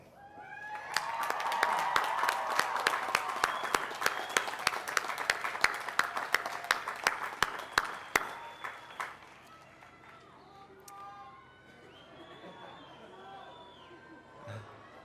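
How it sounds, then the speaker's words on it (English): A graduation commencement audience stands and applauds, a dense, sustained round of many hands building over the first seconds and holding strong before tapering off into scattered claps and murmuring crowd noise. "please join me by standing and giving those people a well-deserved round of applause"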